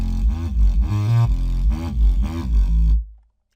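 An FM8 synth bass run through distortion and a Vengeance flanger at its default preset, loud and gritty, with rhythmic wobbling pulses that swell and shift, then cut off abruptly into silence.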